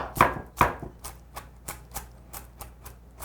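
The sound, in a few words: knife mincing dried shrimp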